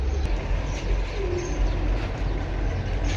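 Soft cooing of racing pigeons, including silver-necked birds, rises faintly from a steady, noisy background, low and indistinct rather than close.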